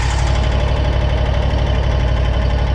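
A Hustler X One mower engine idles loudly and close after an oil change, warming up with a steady, slightly knocking rumble and no talking.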